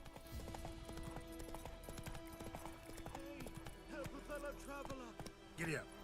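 Horse hooves clip-clop at a steady trot in The Witcher 3, rhythmic and close, with someone talking over them and a brief whinny near the end.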